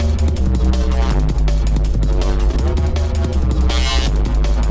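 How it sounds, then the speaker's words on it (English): Thick detuned Reese bass synth patch built in Native Instruments FM8, droning loud and steady with a throbbing, phasing low end and shifting bright upper texture, no voices. "how to make a wobble sound with FM8"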